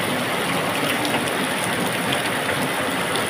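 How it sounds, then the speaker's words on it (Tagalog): Heavy rain pours steadily in Valenzuela, a dense, loud, unbroken hiss of water with no pauses across the whole stretch. "Ngayon lang to ulit, umulan dito ng ganito kalakas."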